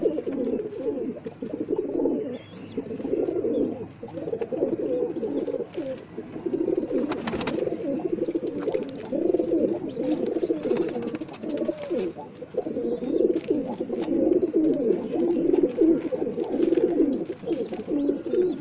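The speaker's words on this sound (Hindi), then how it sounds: "तो ये मेरे सारे कबूतर हैं" Many pet pigeons cooing together in a steady, overlapping chorus, close by, with soft rustling and occasional faint chirps.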